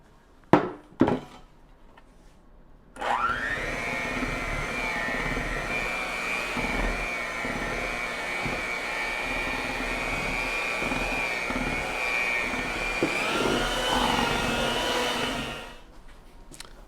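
Electric mixer whirring steadily through thick lemon pound cake batter with flour, a loud constant motor drone lasting about twelve seconds after a few clunks, then winding down.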